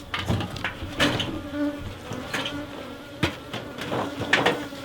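Honey bees buzz steadily around a colony, with close passes swelling in and out and a few sharp knocks among the hum.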